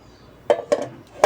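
A frying pan (kawali) is handled in a home kitchen in Manila, giving three short, close metallic clanks spaced about a quarter to half a second apart.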